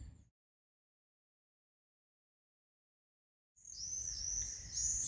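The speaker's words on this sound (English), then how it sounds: "the swifts and the birds are really loud this morning" Many birds, swifts among them, chirp and call together in the morning air. The dawn chorus is dense and fairly loud, entering after several seconds of silence and carrying on to the end.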